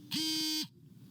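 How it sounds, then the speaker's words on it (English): A single loud electronic buzzer beep, steady and harsh, lasting about half a second before cutting off to quiet background. "Those loud beeps are pretty bad."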